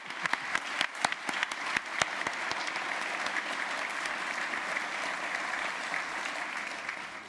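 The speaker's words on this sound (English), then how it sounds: "Why don't you continue that round of applause for Russell Shorto one more time?" Lecture audience applauding for author Russell Shorto, a few sharp individual claps at first, then swelling into sustained, even clapping from the whole crowd.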